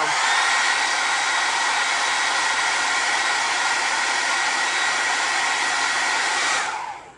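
A hair dryer blows continuously, a loud, steady whooshing roar aimed upward at mascara-coated eyelashes, running unchanged for several seconds before cutting off at the end.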